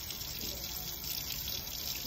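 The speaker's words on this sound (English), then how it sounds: "I'm gonna turn this water on." Tap water running steadily into a sink, a continuous close splashing stream at moderate volume with no voices.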